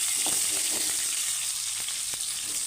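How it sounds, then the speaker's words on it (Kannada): A single Byadagi chilli sizzles in hot oil for a tempering while cooking a Udupi–Mangalore style manoli (ivy gourd) palya, a steady near hiss with faint crackles and no voices. "ಒಂದು ಬ್ಯಾಡಗಿ ಮೆಣಸು ಹಾಕ್ತಾಯಿದ್ದೀನಿ ಒಗ್ಗರಣೆಗೆ."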